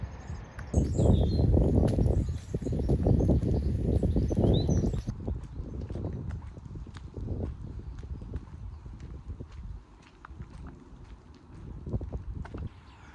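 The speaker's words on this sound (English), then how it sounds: "There it is, the horse." A horse's hooves clip-clop at a steady walking rhythm outdoors, with wind and faint birdsong around them.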